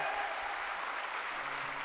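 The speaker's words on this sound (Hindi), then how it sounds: "अब हमारे पुरुष वर्ग से हमारे भाई लोग तालियां बजाए।" Men in the audience at a religious katha gathering clap together, producing a steady, even wash of applause with no clear breaks through the short stretch.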